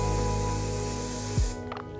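A loud, steady hiss of an aerosol haze spray can spraying for about a second and a half, then cutting off abruptly.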